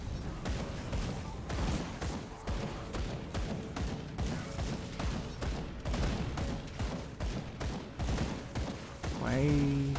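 Grenades exploding in the action RPG Grim Dawn amid a dense battle, with repeated sharp blasts and crackling impacts layered over constant combat noise and a rising magical tone near the end.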